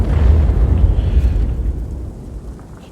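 A tank destroyer fires its gun in a tank battle game, producing one heavy, deep boom up front that rolls out into a rumbling decay fading away over a couple of seconds, with no voices.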